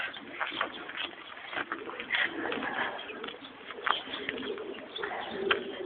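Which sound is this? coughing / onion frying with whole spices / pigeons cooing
pigeons cooing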